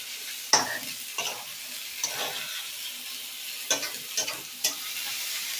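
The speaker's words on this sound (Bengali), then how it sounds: "এখানে আমি আলুটা ভেজে নিচ্ছি" Potato pieces frying in a pan for a chicken curry, a steady soft sizzle broken by several sharp scrape-and-stir accents, close and clear with no talking.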